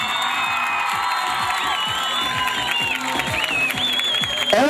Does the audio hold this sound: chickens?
no